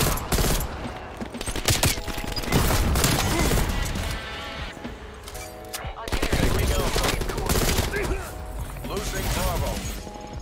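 M16 fired in rapid bursts in Black Ops Cold War, dense overlapping gunshots cracking close and loud through most of the stretch, with game explosions and clatter mixed in and a player talking over the action.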